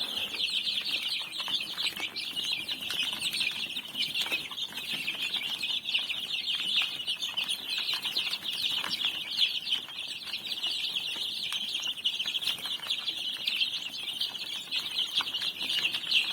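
Some 65 two-week-old incubator-hatched chicks squabble over feed after going without, their shrill overlapping peeps forming a constant nearby chorus with no speech.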